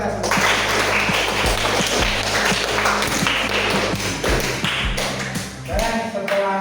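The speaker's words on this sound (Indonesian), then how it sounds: "Tepuk tangan buat kita semua." A classroom of students claps in a final round of applause, dense overlapping hand claps with a few stronger beats, loud and close, tapering off toward the end while voices murmur underneath.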